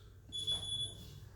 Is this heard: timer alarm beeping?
yes